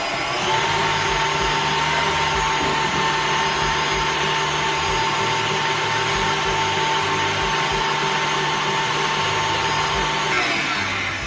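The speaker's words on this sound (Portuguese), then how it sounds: "Antes de continuar a bater, vamos dar uma limpadinha ao redor da batedeira para trazer toda a manteiga para o centro" An electric stand mixer runs steadily, beating cake batter of butter and eggs, with a constant motor whir and churning texture held at close range for the whole stretch, no voices over it.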